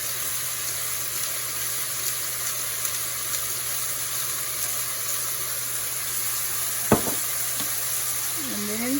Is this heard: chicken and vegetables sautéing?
yes